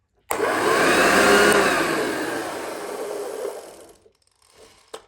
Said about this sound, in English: when you turn the vacuum off and the brush bar is not touching the floor